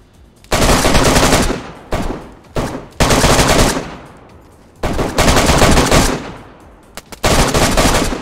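Heavy bursts of automatic gunfire in DayZ come in several loud, sustained volleys separated by short pauses, each burst dense and close.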